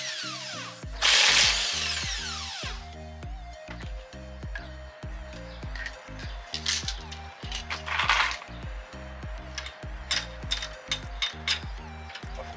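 Power tool rattles lug nuts off the wheels of a Nissan 350Z in a series of loud, rhythmic impact bursts, with a sharp, bright whir near the start and more short zips throughout.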